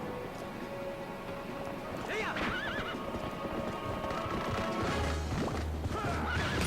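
A horse in the video game Zelda: Twilight Princess neighs loudly and gallops with steady clip-clop hooves, with game impacts and background noise mixed in.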